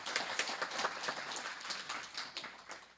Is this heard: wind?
no